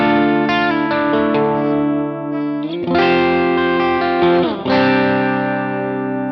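A distorted electric guitar plays a chordal riff with sustained, steady chords and a couple of quick changes, no wavering pitch, loud and close.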